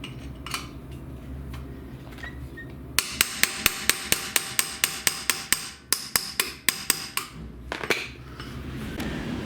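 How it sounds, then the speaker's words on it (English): A hammer pounds a punch to drive the rear axle shaft out of a 2000 Audi TT Quattro. A few scattered taps come first, then a rapid run of about twenty sharp, close metallic blows. "put it in the center of the shaft, and then pound on it until that comes out"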